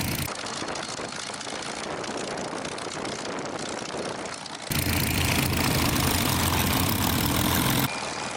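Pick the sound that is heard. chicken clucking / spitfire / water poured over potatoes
spitfire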